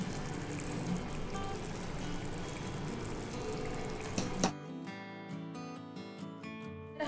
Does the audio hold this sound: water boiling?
yes